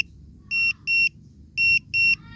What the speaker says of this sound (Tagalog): pwede natin ito malocate gamit ang beep alarm